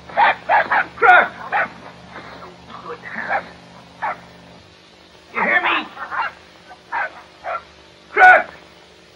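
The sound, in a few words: dog barking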